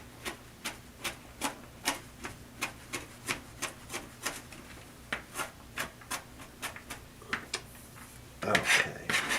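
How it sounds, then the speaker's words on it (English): A kitchen knife dices food finely on a cutting board for a grilled southwest chicken salad, giving a steady run of about twenty crisp, evenly spaced chops up close, ending in a louder scraping clatter. "now just dice it really small"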